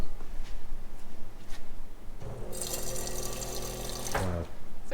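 Asturian cider poured from height into a glass in Nava, a splashing stream that starts suddenly after a quiet stretch, runs loud and bright for about two seconds, then stops.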